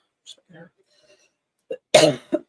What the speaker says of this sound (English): Holy crap, does incense make me have to cough?